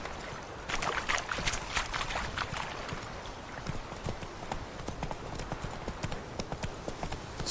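Hooves of the horse Roach galloping across ground in The Witcher 3 on Xbox Series X, a fast, steady clip-clop rhythm that runs throughout and grows brisker toward the end.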